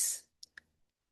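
Two short mouse clicks on a computer while navigating a real estate tools website, sharp and close, following a brief fading noise, then quiet.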